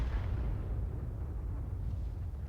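A single deep artillery shell blast from a tank in a video game, a heavy low boom that rumbles and decays over a couple of seconds.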